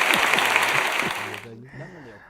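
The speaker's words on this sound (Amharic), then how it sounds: "አጨብጭቡላቸው።" An audience claps in a dense burst of applause that fades after about a second and a half, while a voice talks over it and keeps going.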